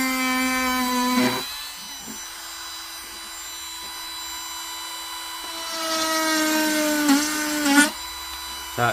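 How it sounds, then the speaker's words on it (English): A high-pitched Parkside PMW 32 A1 battery rotary tool whines steadily, rising in pitch at moments as it drills into softwood, with brief dips and surges in speed. "That's drilling softwood easy."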